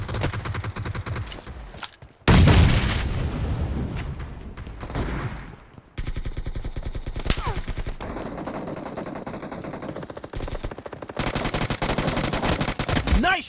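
Gunfire in the BGMI battle-royale game, with bursts of rapid automatic fire and sharp single shots coming loud and close in quick clusters across the whole stretch.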